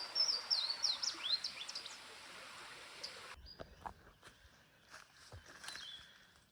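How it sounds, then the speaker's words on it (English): A Louisiana waterthrush sings a complex run of high, bright chirping notes in the morning outdoors, clearest at the start, followed by rustling and soft footsteps. "There again we have the Louisiana water thrush. We haven't seen it, but it's making a racket."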